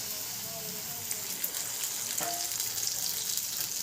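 Water poured onto potatoes in a hot pan sets off a steady hissing sizzle, fairly faint and continuous, with a few small crackles and one brief clink.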